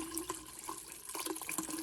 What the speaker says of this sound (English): it's cold water that's draining out